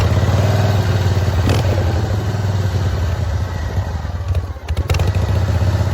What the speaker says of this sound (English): The bike features electric start and is described as running strong and very loud